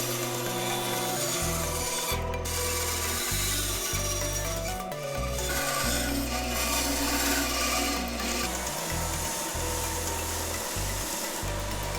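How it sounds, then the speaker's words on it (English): Wood boards are cut to make a groove, probably with a power tool, giving a loud continuous grinding and rasping with shifting pitch and brief dips, close up and with no talking. "I just need to cut a little bit of a groove out of these boards"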